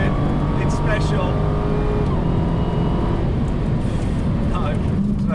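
A Dodge Demon launches with its wheels spinning, a loud, sustained engine roar and tire noise heard from close by, with someone talking faintly beneath it.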